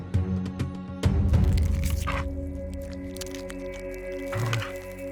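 A wild wolf crunches and chews bones while eating meat, its wet cracking and squishing bites heard up close under a steady musical drone.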